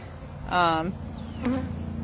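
Honey bees buzz near the hive entrance, two brief passes of a close droning wingbeat hum, one slightly longer, over a quiet outdoor background.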